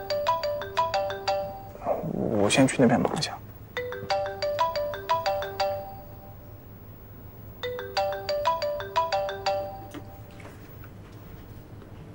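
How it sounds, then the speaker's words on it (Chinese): A phone rings in an office with a repeating electronic melody in short bursts, close and clear. A brief spoken line interrupts between the rings. "电话"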